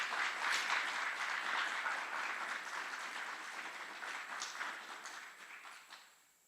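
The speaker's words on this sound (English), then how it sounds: "Please join us in giving a round of applause to these outstanding drill sergeants and instructors." At an Army aviation brigade graduation at Fort Eustis, an audience applauds drill sergeants and instructors. The clapping is soft and somewhat distant, holds steady, then tapers off near the end.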